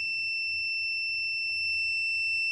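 A steady electronic buzzer in a voltage divider circuit tone sounds continuously at about 9 volts, a piercing high pitch with faint low hum beneath and no voices.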